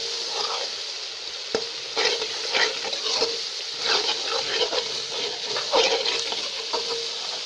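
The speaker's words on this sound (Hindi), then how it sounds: "और अच्छी तरीके से भून लें। अब ये तमाम मसाला जात शामिल कर लें।" Spices fry in a pot for haleem, a steady hiss broken by repeated scraping bursts as they are stirred, close and moderately loud with no talking.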